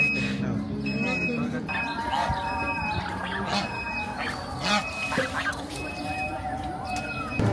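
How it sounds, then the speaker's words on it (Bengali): Goslings call from close by in a rural yard, making a stream of thin cheeping and honking notes. People talk over them throughout. "রাজহাঁসের বাচ্চা"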